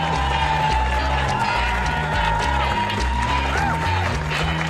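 A stand-up comedy audience at Gotham Comedy Club cheers and applauds steadily throughout, the dense clapping and whooping of the live crowd filling the room at close range with no break.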